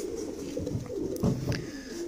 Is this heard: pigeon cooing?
yes